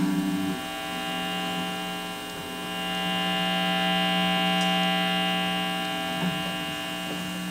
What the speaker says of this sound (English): These pickups are hot single coil pickups and do not reduce hum.